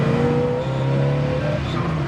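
A loud 302 V8 engine in a 1969 Chevrolet Camaro Z28 revs up close, its deep rumble rising and holding in pitch before easing off slightly.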